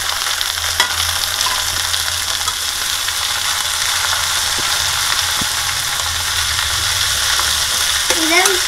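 Washed drumstick leaves frying in a pan, a loud continuous close sizzle and hiss with faint stirring scrapes, no talk.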